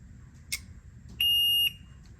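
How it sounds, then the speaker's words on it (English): TCAD controller alarm going off because the tank is cold, a single sharp, loud electronic beep lasting about half a second, preceded by a faint click in a quiet room. "But now there's an alarm all the time because the tank is cold."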